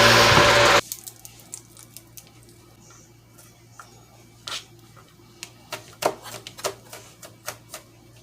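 Knife chopping a large pile of garlic on a wooden board, a burst of noise at the start giving way to scattered sharp cuts that quicken into a run of taps near the end, close and clear.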